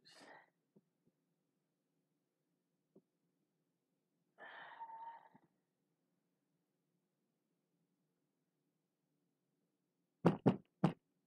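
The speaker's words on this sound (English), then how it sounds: "Oh yeah, I dropped the scissors." Scissors clatter to a hard floor in a quick cluster of three sharp impacts after a long, near-silent stretch with a brief soft murmur earlier.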